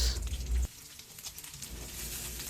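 Sliced onion fries in hot cooking oil in a pan on a stove, a steady close sizzle and crackle that follows a short burst of low rumbling noise.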